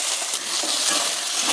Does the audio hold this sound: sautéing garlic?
yes